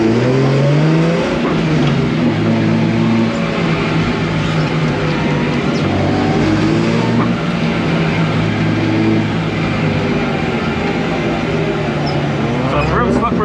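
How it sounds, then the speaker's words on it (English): A professional drift car's engine roars and revs continuously through laps on a slippery track, loud and close, with the pitch rising and falling as it accelerates. Voices are heard faintly under it. "Right, we're about to go out with Corey for some laps."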